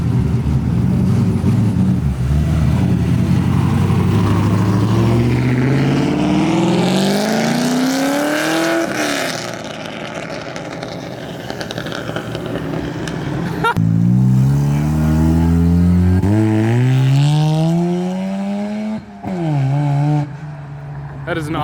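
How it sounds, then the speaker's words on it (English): A modified drift car rolling out of a car show in Dallas, its loud engine revving and rising in pitch through repeated accelerations and gear changes, close by, with people talking over it. "The drift car rolling out."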